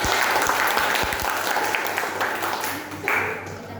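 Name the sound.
classroom applause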